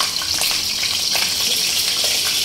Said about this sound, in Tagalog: Magpakulo tayo ng mantika and ilagay natin ang sibuyas at bawang